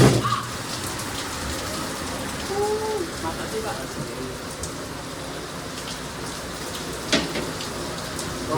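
Heavy rain heard from inside a train stopped at Nganjuk station pours down in a continuous hiss, with water leaking in, a few faint voices and scattered knocks under the wash of water.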